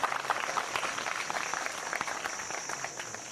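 A crowd at a 2008 community prize distribution ceremony in Vallabhipur claps steadily, a sustained wash of applause with scattered sharper hand claps, moderately distant and continuing for several seconds without a break.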